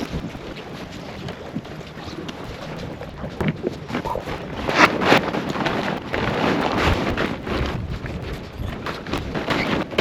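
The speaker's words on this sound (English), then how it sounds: "the wind's picked up a little bit" Wind gusting across a sailboat deck, a loud rushing roar buffeting close to the microphone with swelling surges and a faint wash of water beneath, no voices.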